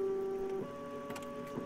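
An office printer whirs inside a horror video game, a steady mechanical tone that shifts pitch partway through, followed by faint clicks and ticks, heard alone without talk.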